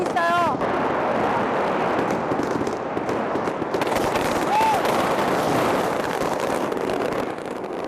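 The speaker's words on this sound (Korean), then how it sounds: "The hazy smoke and loud booms of the firecrackers remind me of war." Firecrackers set off by households on Chinese New Year's Eve in Yunnan, with loud, dense, continuous crackling and booming that fills the whole stretch, and faint voices briefly audible underneath.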